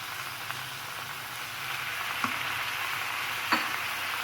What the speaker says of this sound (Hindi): चिकन को फ्राई कर लें, इसका कलर चेंज हो जाए।